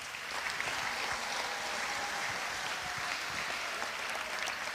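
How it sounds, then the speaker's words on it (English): Applause for a senior cross country runner headed to state, heard at a team sendoff: a soft, steady patter of clapping from a modest crowd, somewhat distant and continuous. "let's give her a round of applause"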